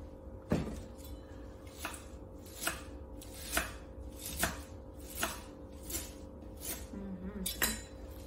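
A knife chops sunflower sprouts for a salad on a cutting board, about a dozen evenly spaced knocks in a slow, regular rhythm, close and fairly quiet.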